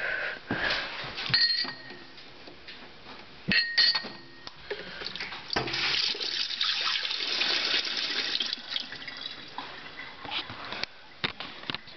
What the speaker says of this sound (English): I'm gonna wash these out.